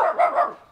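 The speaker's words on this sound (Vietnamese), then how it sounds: "Chú có nuôi chó nè." A single short bark from a dog kept in a fruit garden, close and clear, lasting under a second with a slight tail-off and no talk around it.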